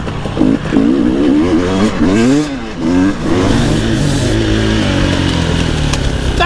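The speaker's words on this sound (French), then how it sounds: "sur l'accélération que je viens de faire, le 300 s'énerve un peu plus quand même" A KTM 300 motorcycle accelerates hard, its engine revving up in loud rising and falling sweeps close by, running continuously without voices.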